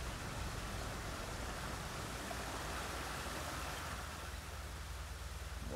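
Steady, even hiss of falling rain from a rain cloud in the video game Dreams, soft and continuous throughout with no talking.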